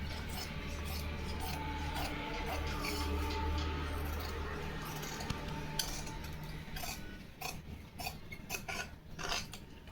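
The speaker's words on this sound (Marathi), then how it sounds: "बघा मी आता थोडंसं कापून घेते इथून" Scissors snipping through blouse fabric on a cutting table during four-tuck blouse tailoring, a steady rasping, rubbing run of cuts with a low hum beneath, growing more broken and irregular toward the end.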